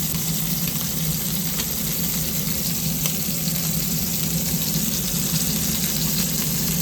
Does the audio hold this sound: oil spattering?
yes